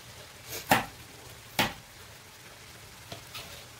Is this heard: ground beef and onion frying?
yes